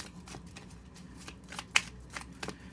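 Tarot cards being shuffled by hand, close and fairly quiet, with a run of soft riffling rustles and several sharper snaps toward the end, no talking.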